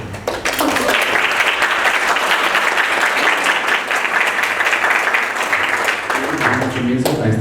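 An audience at an art talk in Mexico breaks into loud, close applause that holds steady for several seconds, then tapers as a voice begins speaking.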